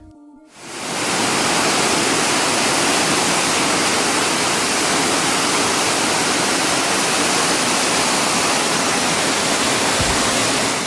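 Eternal Flame Falls, a waterfall in Chestnut Ridge Park, New York, rushing loudly and continuously after an abrupt start, a dense, even roar of falling water with no voices.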